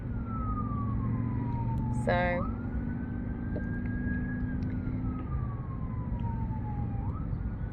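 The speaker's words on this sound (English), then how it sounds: "Can you hear the ambulance?" An ambulance siren wails up and down, rising and falling across the clip, with a voice speaking briefly underneath and steady background noise.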